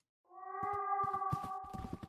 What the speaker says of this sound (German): Hörst du ein Miau?